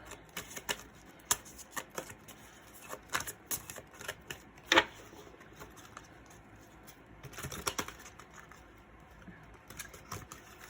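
Tarot cards riffled and shuffled, with sharp clicks and brief flurries of soft rattling at an irregular pace, fairly quiet and close by.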